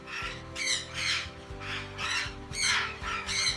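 Scarlet macaws squawk in a run of about seven loud, harsh calls at an irregular rhythm, close and clear over a low background hum.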